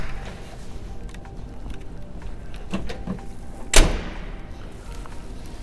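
A tonneau cover on a 2020 Toyota Tacoma Limited Edition pickup is unlocked and shifted, giving a single sharp clunk against low background noise, with a few faint knocks just before it.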